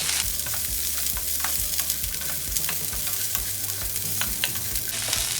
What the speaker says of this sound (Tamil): வெண்டைக்காய் கலர் சேஞ்ச் ஆகாமல் கொஞ்சம் நல்லா வதக்கணும்.